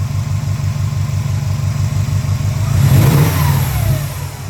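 A Subaru STI engine idles with a steady low rumble, then revs up loudly before settling back, close by with no talking.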